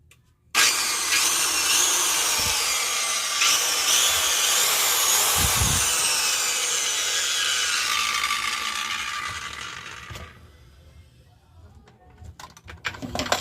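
A circular saw is switched on for a test and spins up into a loud, steady whine for about ten seconds, then winds down, followed by scattered clicks and handling noises.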